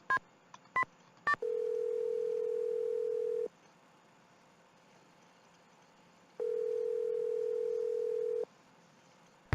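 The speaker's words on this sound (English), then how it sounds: "I'm gonna try calling Bess again" Telephone in a Nancy Drew video game: three quick dialing beeps, then a long steady dial-style tone, a pause of quiet, and a second long tone, clean and close.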